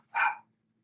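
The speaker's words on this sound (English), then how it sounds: "You might hear my dog as well, so I apologise." A single short, sharp dog bark in a home during an online meeting, close and loud, standing alone with silence after it.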